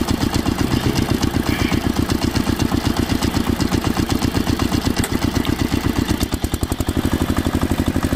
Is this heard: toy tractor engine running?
yes